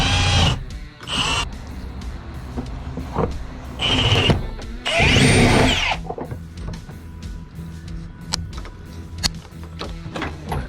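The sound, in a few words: power drill drilling a hole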